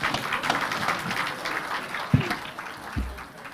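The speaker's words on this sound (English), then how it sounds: "let us give the two party leaders a hand of applause" Audience applause for two party leaders at a parliamentary group meeting, a steady wash of clapping from a crowd, with a couple of low thumps near the end.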